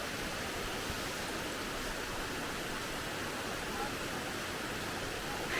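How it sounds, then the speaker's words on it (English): Seven Sisters Falls in Grenada pours into a pool, a dense, steady broadband rush of falling water that fills the whole stretch evenly and close by. "I can hear the waterfall."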